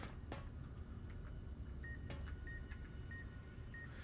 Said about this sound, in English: So if we go near a terminal, it starts to beep.